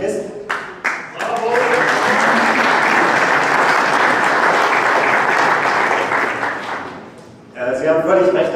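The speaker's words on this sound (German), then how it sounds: "da kann man ruhig klatschen" Loud, sustained audience applause fills a campaign rally opening in Berlin Spandau, rising after brief speech, holding steady for several seconds, then fading before talking resumes.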